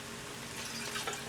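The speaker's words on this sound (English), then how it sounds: "Pour a little water in there to get it out." Water is poured into an empty glass picante sauce jar to rinse it, giving a steady, close rushing and splashing wash that fills the moment without talk.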